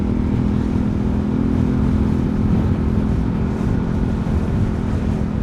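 Motorcycle engine running steadily and loud throughout while riding over a rough, pothole-filled road, with a continuous low rumble and no voices.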